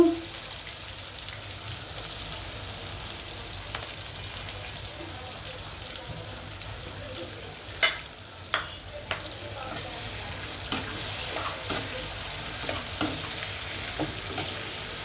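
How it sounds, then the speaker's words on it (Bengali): Chopped onion sizzles in hot oil already used for frying fish, cooked for a chital fish kofta curry; a small splash at the start gives way to a steady, soft frying hiss with occasional sharp crackles and pops. "আমি এখন পেঁয়াজটি দিয়ে দিব।"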